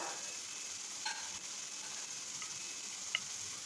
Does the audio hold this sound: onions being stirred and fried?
yes